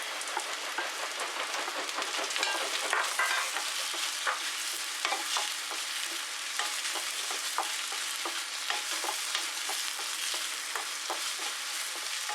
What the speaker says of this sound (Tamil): வெங்காயத்தை போட்டு வதக்கிக்கலாம். அது கூடவே பூண்டு, மிளகாய், இந்த கொத்தமல்லி, சீரகம், மிளகு இது எல்லாமே போட்டுக்கலாம்.